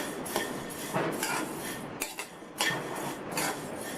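Vermicelli dry-roasting in an oil-free kadai is stirred with a metal spoon, giving rhythmic scraping and clinking against the pan in repeated strokes, close up and with no talking.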